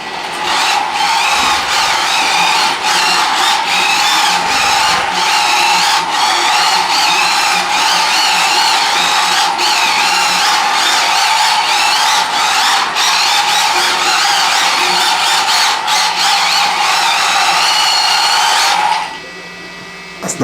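A cheap RC drift car whines steadily at high pitch for about nineteen seconds as it drives and drifts around a circle, motor pitch wavering slightly with throttle, then cuts out abruptly near the end.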